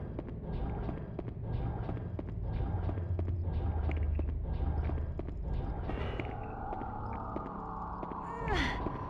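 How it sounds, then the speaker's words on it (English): Rhythmic footsteps in the survival horror game Haunting Ground, a steady clodding tread like hooves repeating for most of the stretch, with a brief metallic shimmer near the end. "I hear footsteps."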